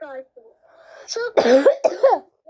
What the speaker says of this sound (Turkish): Bakın öksürük sesimi duyuyorsunuz.